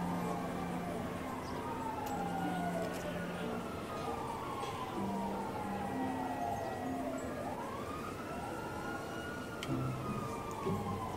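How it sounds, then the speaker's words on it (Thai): Several emergency vehicle sirens wail in the GTA V video game, their rising and falling tones overlapping steadily from different directions, with a low engine-like hum underneath throughout. "เสียงหวอจากฝั่งนู้นเสียงหวอจากฝั่งนี"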